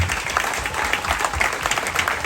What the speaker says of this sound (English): please give yourselves a round of applause, ladies and gentlemen